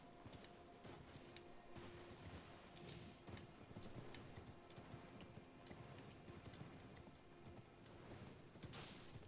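A horse gallops in Elden Ring, its hooves giving a quick, steady clip-clop that runs faintly and continuously through the whole stretch.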